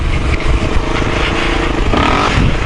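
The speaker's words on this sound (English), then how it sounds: "Well, it's a 2001 R1 engine, so it's, you know, not the modern stuff." A carbureted 2001 Yamaha R1 motorcycle engine with a loud, steady, close engine roar that rises in pitch near the end as it revs.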